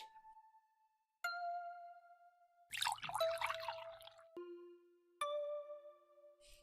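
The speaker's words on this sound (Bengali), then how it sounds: "এখনই তেল দিয়ে দিচ্ছি" Cartoon sound effects for hair oil poured onto hair: bright, clean watery drip and ding-like tones, each holding a single pitch, with a brief splashy burst in the middle, close and fairly quiet.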